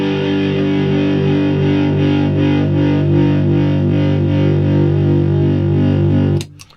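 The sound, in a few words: power chord on distorted electric guitar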